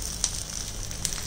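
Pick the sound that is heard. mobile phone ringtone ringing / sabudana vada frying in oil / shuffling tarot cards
sabudana vada frying in oil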